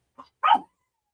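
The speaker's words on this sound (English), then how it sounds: "one moment for a dog break" A dog gives a single short bark, loud and close, preceded by a brief softer yip, then silence.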